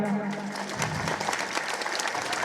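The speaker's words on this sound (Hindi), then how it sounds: "एक बार जोरदार तालियां" A crowd at a political rally in Okhla, Delhi, breaks into applause, a dense, sustained clapping that swells after a brief lower-pitched moment at the start and holds at moderate loudness.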